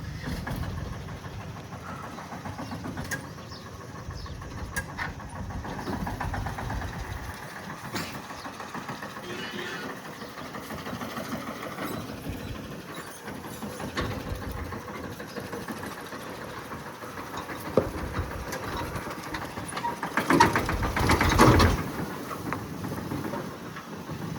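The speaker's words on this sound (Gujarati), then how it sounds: "હાલો ટ્રેક્ટર કાઢે છે નીરનું ભરેલું" A tractor loaded with fodder pulling out on a farm, its engine a low steady rumble throughout, moderately near, swelling slightly toward the end.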